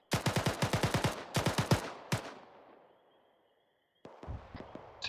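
Close, loud automatic gunfire in a military video game comes in rapid rhythmic bursts, then a single shot and a ringing pause before another burst starts, with no talking.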